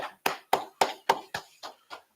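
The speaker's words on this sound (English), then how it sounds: "go ahead and clap it up, clap it up" Eight separate hand claps in an even rhythm, close and fairly quiet in a small room during a brotherhood class, each sharp clap decaying quickly before the next.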